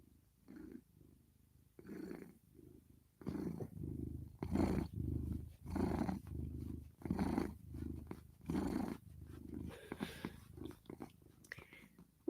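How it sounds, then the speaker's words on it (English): A sweet female cat purrs steadily up close in rhythmic rumbling pulses, with soft quiet surroundings and a hint of breathy vocal noise. "We could listen to you purr forever."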